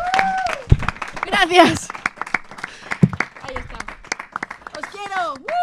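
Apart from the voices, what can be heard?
audience applause in a theatre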